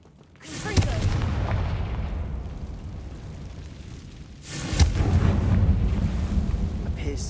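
The Confringo fire spell goes off twice in Hogwarts Legacy, and each cast lands as a deep rumbling blast with a long roaring tail.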